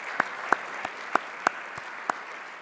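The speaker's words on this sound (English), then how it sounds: "a round of applause for that one" A handful of separate, sharp hand claps from a small audience at a university research and scholarship day, spaced out and faint in a quiet room.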